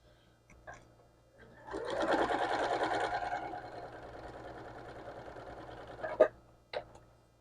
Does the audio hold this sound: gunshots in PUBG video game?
no